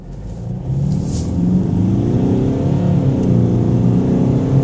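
A Mercedes car pulls away from a standstill on the road, its engine note climbing steadily and loud as it accelerates, heard from close by with no talk.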